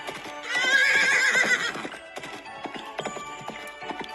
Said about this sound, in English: This is a horse, and the horse says,